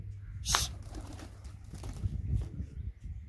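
Pigeons cooing softly with a sharp burst of wing flaps near the start, set against faint background noise on a windy rooftop.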